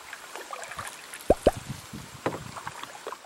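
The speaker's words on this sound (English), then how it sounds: "We are paddling in pretty much complete darkness." Canoe paddle strokes on a lake at night, soft drips and splashes with two sharper plops of the blade entering the water, close and quiet in a still setting.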